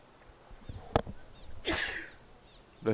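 A single sharp sneeze at a cricket ground during a West Indies Championship match, near and distinct, followed by softer shuffling noises and a few faint bird chirps.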